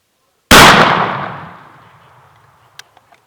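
A single loud blast from a Russian shotgun cracks sharply and rolls off in a long echoing decay, followed a moment later by a few faint metallic clicks.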